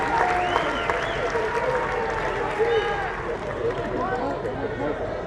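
College baseball crowd at a Florida State game against Louisville cheering and applauding after a strikeout, a steady wash of clapping and shouts under a play-by-play commentator talking throughout.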